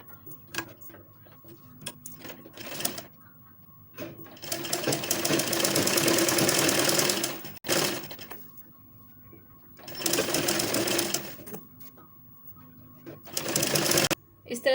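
A sewing machine stitches kurti lining in three long, steady whirring runs, loud and close, separated by quieter pauses.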